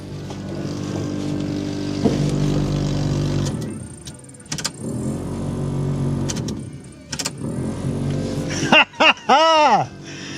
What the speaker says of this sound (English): We've got blower motor.